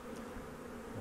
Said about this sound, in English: Just about all the bees out of there now.